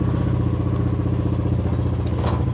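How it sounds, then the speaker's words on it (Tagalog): Motorcycle exhaust rumbling close and loud in a steady, rapid thumping idle, with a brief light clatter near the end. "How's the sound of the exhaust?"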